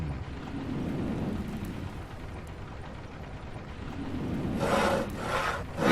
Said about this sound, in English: You saw off the handle on both boots so they can stand on end